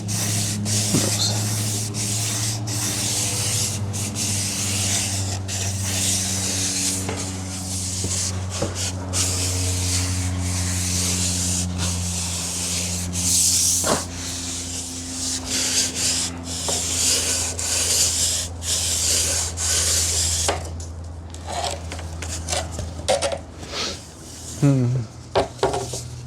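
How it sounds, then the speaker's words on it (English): Steady hand sanding of car exhaust parts before painting, a continuous close scratchy rubbing with uneven strokes over a constant low hum, ending in a few scattered knocks. "probably need to sand this more"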